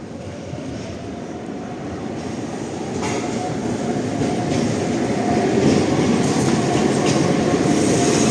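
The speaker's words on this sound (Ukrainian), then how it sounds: "Трамвайчик зараз нас обжене." A tram rumbles past nearby on a street in central Lviv, its steady rolling noise growing louder over several seconds with faint metallic screeching on top.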